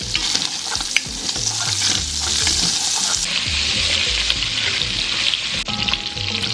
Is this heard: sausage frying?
yes